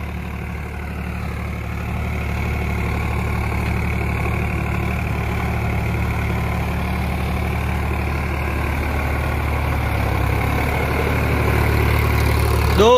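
A Sonalika tractor's heavy diesel engine, run about two thousand hours, idles and runs steadily with a deep, continuous low rumble, close by and unchanging throughout.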